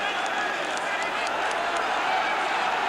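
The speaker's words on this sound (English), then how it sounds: "A few shouts from the crowd there when Souness deflected the ball." Broad, steady crowd noise from a football match between Everton and Liverpool, with scattered shouts rising over a continuous roar that holds level throughout.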